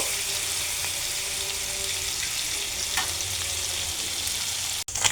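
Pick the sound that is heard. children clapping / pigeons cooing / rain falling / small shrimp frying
small shrimp frying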